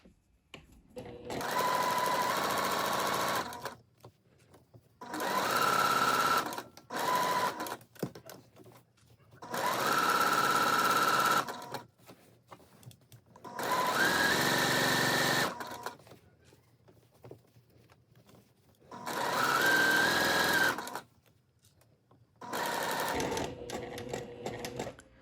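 A sewing machine stitches a pocket seam at a narrow 1/8-inch allowance. It runs in six steady whirring bursts of a few seconds each, separated by quiet pauses, close to the listener and with no talk over it.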